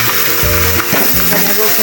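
Green chili paste hits the hot oil left after frying tilapia and sizzles loudly and close up, a dense crackling hiss with a few bubbling pops.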